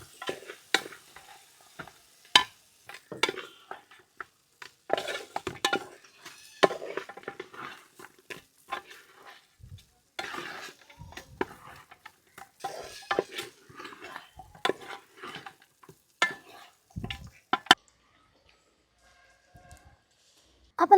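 Fried sardine pickle, Kerala style, being mixed in a pan: repeated irregular scrapes and clinks of a spoon against metal, close and fairly loud, with faint sizzling between strokes and a quiet pause near the end.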